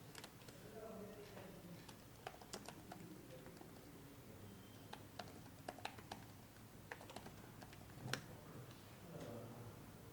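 Scattered computer keyboard clicks while typing, faint and irregular, with a quiet voice speaking now and then over a low room hum.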